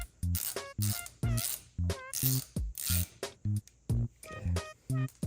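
Ratchet working the three drive hub bolts loose on a Polaris Scrambler 500 ATV, heard as repeated short clicking bursts in a steady back-and-forth rhythm, close and fairly loud with no talking.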